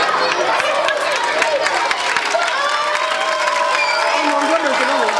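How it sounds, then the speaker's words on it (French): A school crowd at a donation event in Cameroon applauds and cheers steadily throughout, with children's shouts and chatter mixed into the dense, continuous noise. "Applaudissez pour lui"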